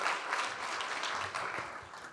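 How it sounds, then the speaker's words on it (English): An audience at a live televised panel discussion on Ontario democracy applauds in a dense, steady burst of many hands clapping for about two seconds. "Applause, applause here."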